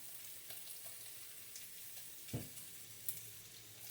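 Clear Chinese cooking wine poured into a pot of pork belly for Japanese kakuni, a soft steady liquid sizzle and bubbling with a couple of brief splashy bursts, close and quiet, no talking.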